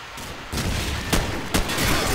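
Gunfire in the Call of Duty video game during a firefight in smoke: dense bursts of loud, close shots with a couple of sharper cracks standing out in a continuous noisy barrage, with no voices.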